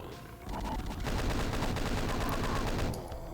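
Monsters infighting in Doom 2 give rapid, continuous bursts of gunfire and blasts, dense and loud through most of the short stretch.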